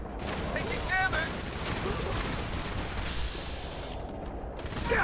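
Gunfire in the video game Fallout 4, a dense, continuous crackle of shots with mechanical clatter, fairly quiet and steady throughout.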